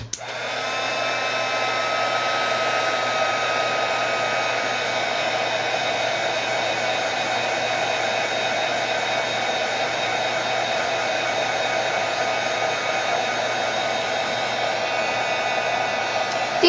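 A hair dryer runs steadily at close range, drying paper Prima flowers that were sprayed with Glimmer Mist, with an even, continuous whir and no talking throughout.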